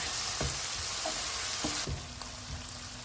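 Fenugreek, cumin powder, coriander powder and nigella seeds roast in a pan for tarka dal, giving a steady close sizzle with a few light spoon scrapes and taps.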